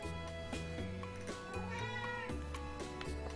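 A cat meows several times fairly close by, separate calls standing out over a steady background of video game music with no talking.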